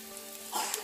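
Bitter gourd frying in hot oil gives a soft, steady sizzle that swells briefly near the end, close and faint with no voices.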